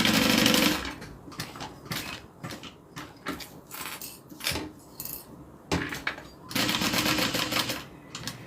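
A sewing machine stitching fabric in bursts, loud runs at the start and near the end with quieter intermittent stitching and pauses between.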